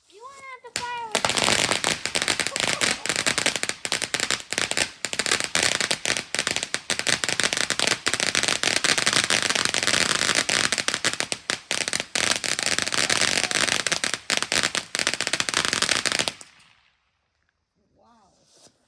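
A fireworks show bursts loudly and continuously for about sixteen seconds, with dense crackling and rapid popping explosions that stop abruptly. Voices are heard briefly at the start and again at the very end.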